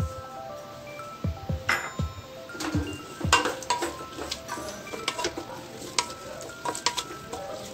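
Curd being stirred into vegetables in a pot for veg biryani, with repeated scraping strokes of a spoon and light clinks against the metal over a soft sizzle, close and fairly quiet.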